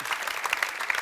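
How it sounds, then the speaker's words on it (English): Applause from a conference audience after a panel on leadership in Central Europe: a brief, dense burst of clapping from many hands across the room, with no voices. "Please give them a round of applause."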